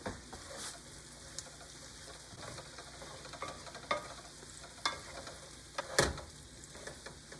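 Sautéed mushrooms with parsley, pepper and salt stirred in a frying pan, a steady close sizzle under scattered scraping spoon clicks and one sharper clatter near the end.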